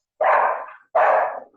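Two loud, close dog barks, each about half a second long with a short gap between them. They sound alone, with no talk underneath.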